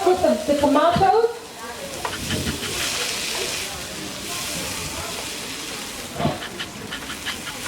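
Tomatoes sizzle and fry in a hot pan while being stirred, a steady close hiss with occasional scraping of the utensil; a voice speaks briefly at the start over the frying.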